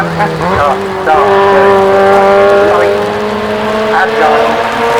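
A car powering up the Shelsley Walsh hill climb, engine loud and near, its note climbing through several quick gear changes with short dips between them and sustained high revs.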